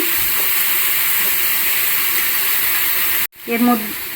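Ghugni simmering with tamarind water in a hot pan gives a steady broadband sizzle and hiss, cut by a brief gap near the end before a few short stirring scrapes and clinks, with no talk.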